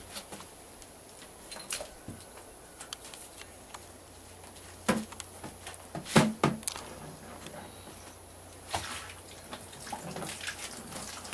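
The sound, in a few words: hand pump drawing water from well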